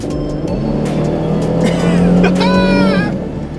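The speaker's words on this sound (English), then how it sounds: "it's only a V6, 210 horsepower, but the torque, man, watch this." A 2007 Ford Mustang V6 rated at 210 horsepower accelerating hard, its engine roaring loudly from inside as the pitch climbs steadily through the revs, with a voice over the engine.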